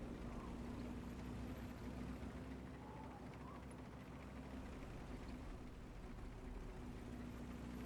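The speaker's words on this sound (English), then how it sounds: "this thing has a pretty powerful engine for its size" The T28 tank in World of Tanks drives uphill under its powerful engine, a steady low rumble with a constant hum that continues unbroken throughout and carries no talking.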